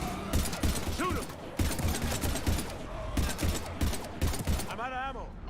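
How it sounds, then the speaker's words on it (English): Heavy gunfire during a Mass Effect 3 battle, repeated bursts of automatic weapon fire in quick volleys, with shouted voices between and over the shots. "We're taking heavy fire."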